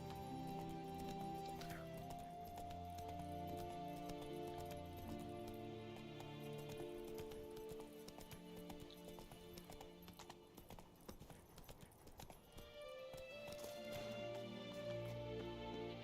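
Horse hooves clip-clop steadily along in The Witcher video game, a rhythmic trot mixed under sustained orchestral game music with occasional soft clinks.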